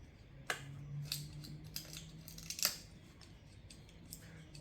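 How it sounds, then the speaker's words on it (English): Paint peeling off a Suzuki RGV250 motorcycle part: faint crackling and scratchy snaps, a few sharper ticks over a low steady hum, close and quiet with no talk. "You can actually hear the paint peeling."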